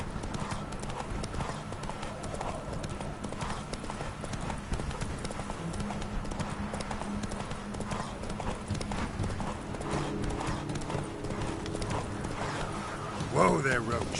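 Steady clip-clop of Roach the horse galloping in a video game, hoofbeats running continuously at a quick rhythm over a busy game soundscape, with a brief louder burst near the end and a voice calling out over it.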